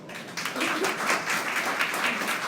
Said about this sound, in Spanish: Un aplauso para los cocineros,